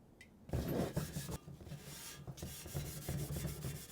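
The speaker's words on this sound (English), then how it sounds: "I put some oil on it, scrub the rust, do my best to keep it clean" Rust being scrubbed off a Pit Boss Austin XL Onyx Edition pellet smoker, oiled beforehand: a steady close-up rasping and rubbing that runs almost without pause, with brief gaps, and no talking.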